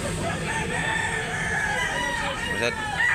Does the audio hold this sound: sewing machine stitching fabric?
no